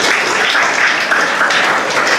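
An audience at a youth outreach extempore event at an academy applauds the guests with dense, steady, loud clapping that fills the room without pause.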